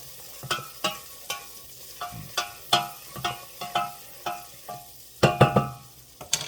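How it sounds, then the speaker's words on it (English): Melted butter in a pan is stirred, giving a series of short scraping, sizzling strokes at a steady rhythm, close and clear with no talking. "Now our butter is completely melted."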